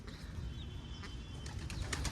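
A pigeon on a rooftop gives soft, faint coos with a light flutter of wings near the end, over a low background rumble.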